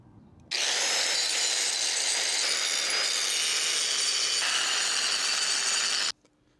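A power tool grinds a part flat during work on a MK1 Volkswagen Caddy with air ride. It starts abruptly at full loudness, holds a harsh, steady whine for about five and a half seconds, then cuts off.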